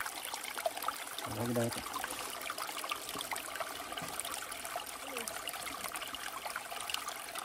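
A steady broadband wash of trickling, running water continues throughout, close and moderately loud, while people talk briefly over it.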